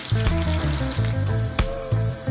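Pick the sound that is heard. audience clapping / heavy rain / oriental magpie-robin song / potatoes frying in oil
potatoes frying in oil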